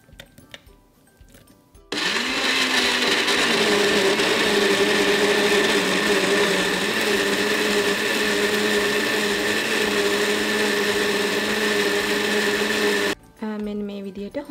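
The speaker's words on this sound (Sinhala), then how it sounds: "අපි අඹ ටික මුලින්ම බ්ලෙන්ඩ් කරගමු." A kitchen blender whirs loudly and steadily for about eleven seconds as it blends mango pieces into pulp, starting abruptly after a quiet moment and cutting off briefly near the end.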